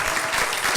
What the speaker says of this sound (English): please give a round of applause to our wonderful panel